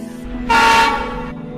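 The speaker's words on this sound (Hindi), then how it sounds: "वे सभी ट्रेन से अपने गांव जाते हैं।" A train travelling on rails rumbles loudly and steadily nearby, with a bright horn-like tone swelling in the middle of the passage.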